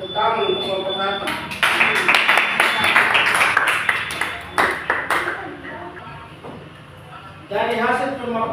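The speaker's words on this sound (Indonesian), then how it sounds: "Tepuk tangan untuk kelompok satu." Students in a classroom applauding group one: a burst of quick, dense hand claps close by that fades out over several seconds, with a tonal ringing note early on and talking before and after.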